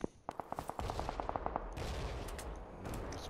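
Rapid automatic gunfire in the battle royale video game PUBG, a fast burst of sharp, evenly spaced shots followed by denser, rumbling fire and scattered distant cracks, loud and close with no talking.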